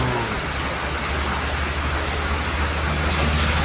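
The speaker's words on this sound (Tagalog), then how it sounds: "Umuulan." Heavy rain pours steadily over rice-planting country, a dense, even hiss of downpour with a low rumble underneath, constant and loud throughout with no voices.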